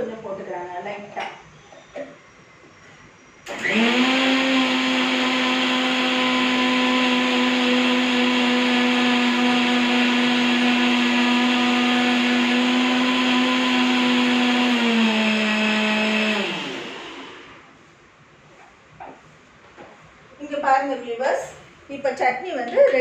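Mixer grinder running onion chutney with a little added water, one steady loud whine lasting about thirteen seconds before winding down, with faint talk and kitchen noise on either side.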